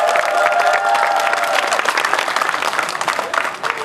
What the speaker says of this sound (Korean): 감사하는 의미로 다시 한번 크게 박수 쳐주시기 바랍니다